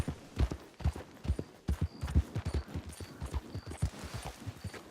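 Horse hooves clip-clopping at a steady walking rhythm in the video game Red Dead Redemption 2, close and distinct, each footfall clear and evenly spaced, with faint background tones.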